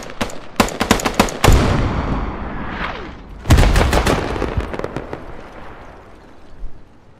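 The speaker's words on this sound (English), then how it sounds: "whoever is on that hell cannon has beef with that apartment complex" Heavy artillery from a hell cannon in a war video game, sharp booming blasts fired in quick bursts, with a big close detonation midway and rolling echoes fading out.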